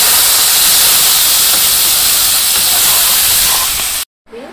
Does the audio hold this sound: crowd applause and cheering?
no